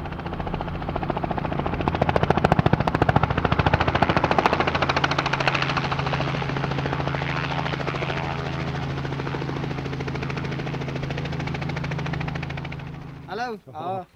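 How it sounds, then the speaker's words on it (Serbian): A helicopter flies during a safari hunt in South Africa, its loud, steady rotor chop and turbine whine running throughout before easing off briefly near the end. "Naravno, kamera je prva ušla u helikopter, pošto je Joca nenadano dobio priliku da sni"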